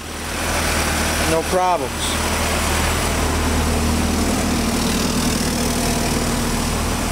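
A 1990 Volkswagen Jetta GLI, one with hard starting and a vibration problem, idles with a steady, even low engine hum that runs the whole time, while a voice speaks briefly near the start.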